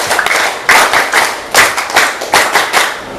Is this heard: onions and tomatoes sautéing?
no